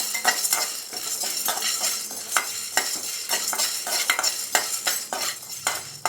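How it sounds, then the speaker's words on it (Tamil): Cumin and fennel seeds with black pepper dry-roasting in a kadai over medium flame, stirred with a spoon in a steady run of scraping, rattling strokes and a light sizzle, close and fairly loud, with no voices. "சீரகம், சோம்பு இது 3ஐயும் சேர்த்து வறுத்து எடுத்துக்கலாம்"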